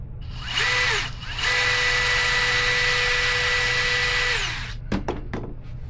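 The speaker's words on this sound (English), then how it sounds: "One more time, bigger drill bit." A power drill fitted with a larger bit whines loudly at steady speed, starting briefly, then running for about three seconds before winding down, followed by a few sharp clicks.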